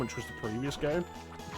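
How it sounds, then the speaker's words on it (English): A cat meowing in the game Castlevania: Order of Ecclesia, a drawn-out wavering meow under someone talking over the gameplay. "One of the side quests in this is collecting cats. So if you hear a meowing, try and find where it's coming from."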